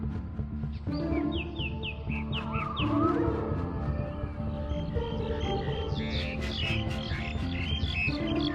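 Large forest birds with magnificent plumage give several short, bright calls and squawks, scattered and moderately close, over a steady musical background.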